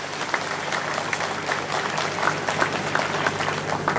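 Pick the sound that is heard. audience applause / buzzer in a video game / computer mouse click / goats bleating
audience applause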